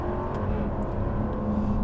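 Supercharged V8 of a Jaguar F-Type R75 sports car drones loudly in a steady low-pitched cruise, a constant engine hum and whine heard from inside, with no voices.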